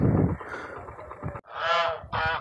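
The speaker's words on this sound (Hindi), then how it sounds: "आप देख रहे हैं हमारी प्यारी बतखें।" Ducks honking and quacking nearby, a low rough call followed by two louder, nasal honks in quick succession, with no talking.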